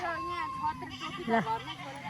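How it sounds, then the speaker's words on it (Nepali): Goats bleating in a hillside village near fields where paddy is being planted, several wavering cries overlapping beneath a voice talking close by, moderately loud throughout the short stretch. "बाख्राको म्युजिक सुन्नु कि उताको म्युजिक सुन्नु?"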